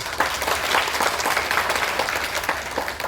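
A crowd at a political gathering in Bihar claps for leader Tejashwi Prasad Yadav, a dense, loud and steady burst of applause with no voices on top.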